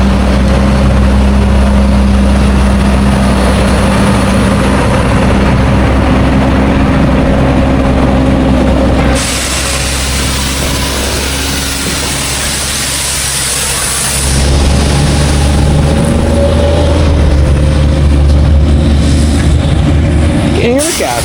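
Heavy equipment engine runs loud and steady while leveling gravel, a deep low rumble throughout, with a shift in tone partway through as the machine works.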